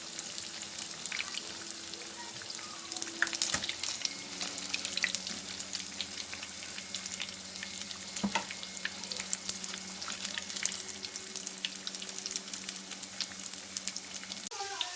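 Stuffed bell pepper rings fry in a pan with a soft, continuous crackling sizzle and scattered pops at close range. A faint steady hum runs beneath the frying.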